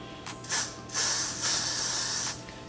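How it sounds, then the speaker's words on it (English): A hand spray bottle fires several close, sharp hissing bursts in an uneven rhythm, the longer sprays running about a second each, with no talk over them. "my sprayer works again"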